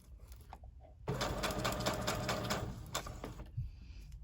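A sewing machine stitches through scrunched crepe paper, a quiet rapid mechanical chatter bursting in after a pause and running for roughly two and a half seconds before slowing and stopping.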